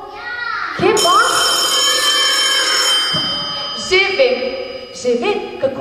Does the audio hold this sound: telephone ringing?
yes